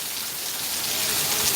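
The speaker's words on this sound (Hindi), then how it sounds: "25-26 घंटे से ये बारिश लगातार हो रही है।" Heavy, continuous rain pours down at a crossroads in Madhubani, a dense, steady hiss of drops hitting the ground with no break.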